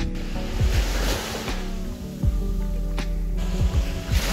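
Ocean waves wash onto a beach in Qingdao, China, a steady roar of surf with repeated low swells rolling in and breaking, close and fairly loud with no voices.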